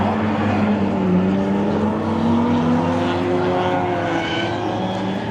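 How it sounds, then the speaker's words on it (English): JDM cars drift around the track at a Nikko drift event. Their engines whine and rise in pitch at a moderate distance, over a steady, wide background roar. "I'm gonna show you some drifting."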